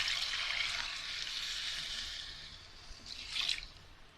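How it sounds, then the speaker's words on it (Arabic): Salted water is poured into a pot to cook rice with chicken liver: a steady, bright liquid stream runs throughout, swelling into a louder gush near the end, close and with no voices. "هنبتدي بقى نحط ميه بملح"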